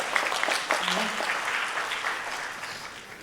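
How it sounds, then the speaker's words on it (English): An industry conference audience applauds, a dense wash of clapping that fills the room and slowly thins out as it goes on, with a voice briefly heard over it. "Tepuklah tangan."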